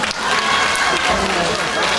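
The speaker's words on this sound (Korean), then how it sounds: "박수 한번 쳐주시죠" Parents in a high school festival audience applaud the students after an afternoon performance, with loud, dense clapping from a large crowd and a noisy hall.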